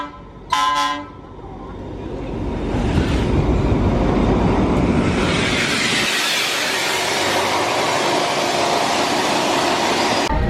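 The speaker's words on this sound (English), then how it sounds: "This is a weird feeling, walking this way while the train goes the other." A train on the River Kwai railway in Kanchanaburi, Thailand, sounds a short horn toot, then rumbles past close by with a rising, steady roar of wagons on the track.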